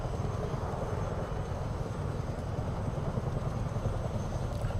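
Steady, loud droning roar of Chinook helicopter engines and rotors in Microsoft Flight Simulator 2024, a dense continuous rumble with no break or voices.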